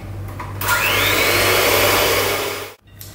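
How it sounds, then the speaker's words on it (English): An electric whisk whirs steadily through egg yolks and golden caster sugar, a close, loud motor drone that starts abruptly and runs for about two seconds before cutting off. "I'm going to whisk that until it is pale and thick"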